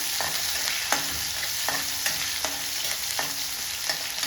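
Two small onions fry in a pan already holding mustard seeds, a steady sizzle broken by regular scraping stirs roughly every half second, close up with no talking.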